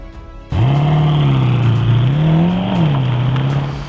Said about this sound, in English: And I will start the car again.